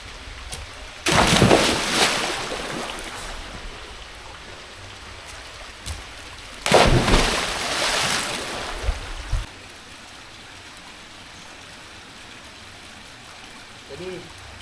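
Water splashes in a cold temple pond where children bathe, two loud bursts of splashing and churning a few seconds each, close by, with quieter watery ambience between and faint voices near the end.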